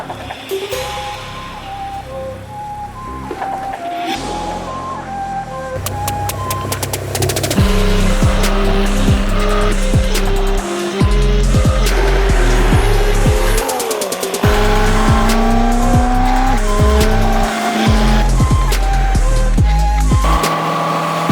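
Two BMW M2 cars pull away one after the other, engines revving hard through the gears with a brief tire squeal, loud and close, the roar rising and holding for much of the run.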